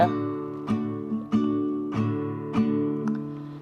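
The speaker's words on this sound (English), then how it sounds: "that's the sound of, that's the classical guitar." A nylon-string Cordoba classical guitar strums a chord several times in a slow, even rhythm, each strum warm and mellow, fairly soft and close.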